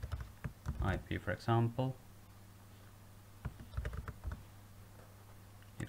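Keys on a computer keyboard are tapped in short, light bursts to enter a project name, coming just after someone speaks and continuing under quieter talk.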